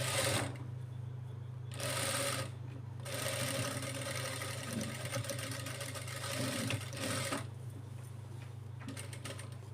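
A sewing machine stitching a lehenga blouse for a child, running in steady whirring bursts with a rapid mechanical ticking rhythm, pausing briefly between runs, close and clear.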